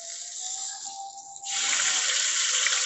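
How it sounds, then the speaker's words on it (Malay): Ingredients hit a hot pan for Bandung-style mee hoon goreng, giving a steady broadband sizzle that swells suddenly louder midway and then holds a strong, continuous hiss with no talking. "Jom kita menumis."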